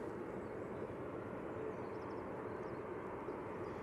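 A Ryanair airliner from Dublin arriving at Manchester Airport produces a faint, steady distant engine roar with low rumble, heard alone without talking.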